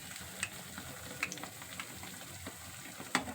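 Malpua batter frying in hot oil in a home kitchen, a faint steady sizzle with occasional soft pops and spatters, heard alone without talk.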